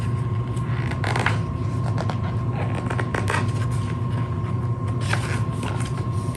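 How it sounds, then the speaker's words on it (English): Creaking and scratching from under a bed, a steady low mechanical creak with a few sharper clicks and scrapes standing out, fairly loud and close, with no voices. "I was surprised to hear more creaking under the bed, loud creaking, scratching."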